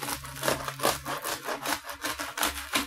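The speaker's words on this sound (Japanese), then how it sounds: "ちょっと切りながら食べるわ" Knife sawing through a crusty baguette sandwich in a rhythmic series of rough back-and-forth strokes, close and fairly loud, with a low hum underneath.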